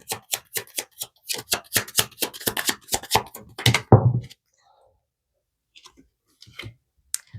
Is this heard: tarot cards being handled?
yes